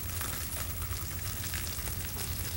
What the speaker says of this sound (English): we're gonna let this pan get nice and hot with the rice in it